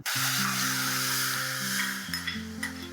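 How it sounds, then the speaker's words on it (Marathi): Hissing sizzle of tamarind pulp cooking in a pan for pani puri water, with a few stirring clinks near the end and melodic music playing underneath. "आता हा सगळा तयार झालेला पल्प आपल्याला एका कढईमध्ये शिजवून घ्यायचा आहे."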